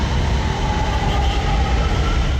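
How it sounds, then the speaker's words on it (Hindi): A Lahore Metro train gives off a steady, loud rumble with a faint tonal hum running through it. The sound holds evenly for the whole stretch, with no voices. "ये रही लाहौर मेट्रो"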